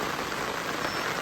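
Steady rain falls at a highland resort, a dense, even hiss of drops filling the short stretch without pause, close and moderately loud with no talk over it.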